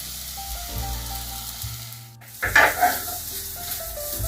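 Chopped onion hitting hot oil in a pan for Normandy chicken, a low hum giving way to a sudden loud sizzle and stirring that settles into steady frying.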